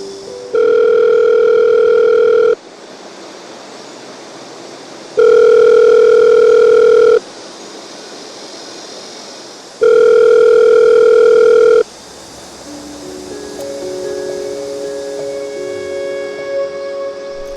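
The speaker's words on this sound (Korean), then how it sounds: "하지만 오늘도 받지 않는 전화." An unanswered phone call rings out with three long, evenly spaced ringback tones separated by pauses, loud and close. Faint background noise follows the tones, and no one answers.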